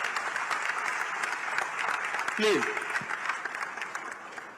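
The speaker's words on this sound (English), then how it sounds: "I think we must give a round of applause for him." Audience applause at a Pravasi Bharatiya Divas gathering, a steady wash of clapping filling the hall throughout with a voice speaking briefly over it.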